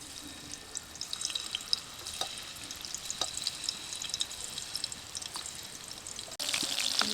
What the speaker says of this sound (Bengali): এবার দ্বিতীয় ব্যাচে চিকেনগুলো দিয়ে দেব।